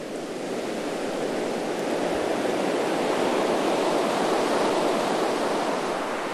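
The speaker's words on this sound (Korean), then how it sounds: "매서운 파도가 이어지는 겨울바다." Rough winter sea waves surge and crash in a dense, continuous roar of surf that holds steady and loud throughout.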